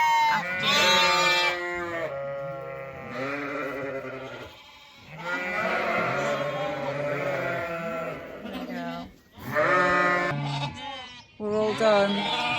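Sheep and ewes bleat loudly in a pen, overlapping calls in long wavering bursts with short gaps between them, close and continuous.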